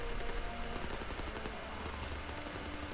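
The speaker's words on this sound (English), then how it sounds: "Okay, I'm getting shot." Sustained gunfire from a WW2 video game battle, dense machine-gun bursts and shots running continuously and loud throughout.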